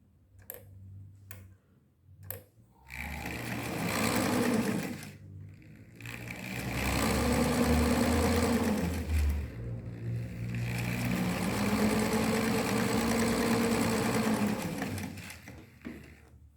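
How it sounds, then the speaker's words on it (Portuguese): After a few sharp clicks, a sewing machine stitches fabric in long steady whirring runs with brief stops between them, close and loud, while a bag is sewn from a free pattern. "para mim poder vir e bater uma costurinha"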